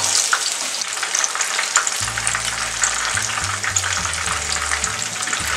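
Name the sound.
chicken pakoda frying and being turned in hot oil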